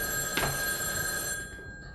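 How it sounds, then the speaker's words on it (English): An old-fashioned telephone bell rings steadily indoors, a brief sharp strike at the start settling into a sustained high metallic ring that fades slightly toward the end, with no talking. "Someday that phone is going to ring"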